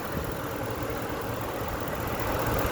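A 2010 Ford F-150's 5.4-litre Triton V8 idles steadily with a low, even rumble and a constant mechanical hum, with no talking.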